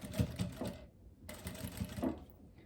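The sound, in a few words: sewing machine stitching viscose fabric edge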